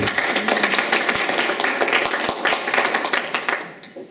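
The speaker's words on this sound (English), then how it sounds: "Applause even, wow" Steady applause from a congregation at a Unitarian Universalist fellowship service in Sedona, dense clapping from many hands close by that fades slightly at the end.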